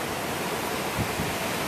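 Ocean waves washing onto a Cuban beach, a steady close broadband roar of surf with slight surges and no voices.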